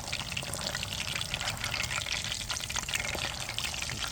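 Duck neck sausage browning in a pan gives a dense, continuous frying sizzle with scattered pops and crackles, close and steady throughout, with no voices.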